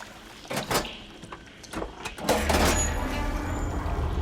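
Machinery in Horizon Forbidden West switches a water flow: a few sliding mechanical clunks and whooshes, then a steady low rushing hum that begins and keeps running to the end.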